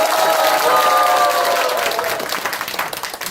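An audience at a local election review meeting claps loudly and continuously, dense applause that holds steady and then thins and fades toward the end.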